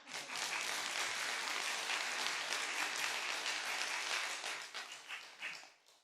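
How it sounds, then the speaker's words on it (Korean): Applause from a church congregation during a Sunday worship service at Eonyang Church, a dense, steady clapping from many hands that swells quickly and holds for several seconds before tapering off. "박수 치셔야 됩니다, 여러분."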